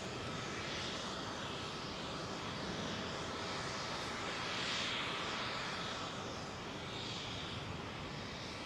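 An Airbus A380 landing at London Heathrow Airport produces a steady, broad jet roar. It is distant and even throughout and swells slightly in the middle, with no talk.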